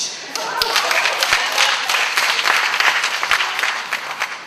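Audience applause at a lecture on architecture, a dense wash of many hands clapping steadily for several seconds, loud and close with no talk over it.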